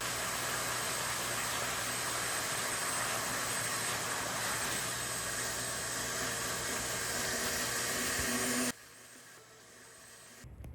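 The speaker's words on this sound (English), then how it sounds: "Now I'll use my shop vac with upholstery attachment to brush away the residue." A shop vac fitted with an upholstery attachment vacuums baking soda residue off a mattress, giving a loud, steady roar that holds for most of the stretch, then cuts to a quieter hum.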